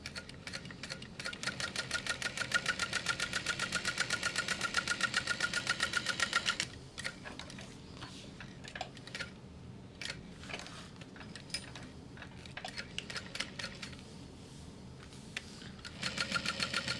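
A 1181 sewing machine stitches a mini handbag in a fast, steady mechanical whir for several seconds, then stops and gives short, separate bursts of stitching with brief pauses between them.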